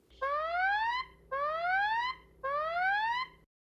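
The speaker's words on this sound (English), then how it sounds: "an alarm sounds in the last few seconds to alert you it's calling 911" Three loud rising electronic alarm sweeps from an Android phone's emergency call countdown before dialing 911, each about a second long with short gaps between, repeating steadily and ending abruptly.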